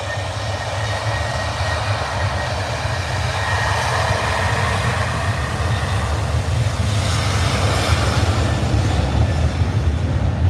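Aircraft taxi at Manchester Airport, a steady low engine rumble and broad hiss holding evenly throughout, fairly distant, with no talk.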